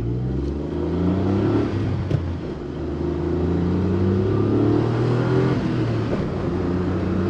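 A cheap used Japanese works-model car's engine revs hard while driving, rising and falling through the gears with a droning mid-pitched tone, close and steady, no talking.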